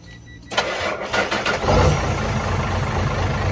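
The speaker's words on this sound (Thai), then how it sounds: "ไปฟังเสียงท่อหน่อย" A truck's J08E turbo diesel engine cranks with a few rapid bursts, then catches and settles into a loud, rough idle with rumbling exhaust close by.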